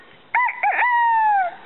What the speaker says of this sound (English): His crow went unrivaled by any cock,